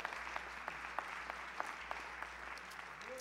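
A church congregation claps during a Sunday evening service, steady scattered clapping that sits fairly faint and distant in the room, with no voices over it.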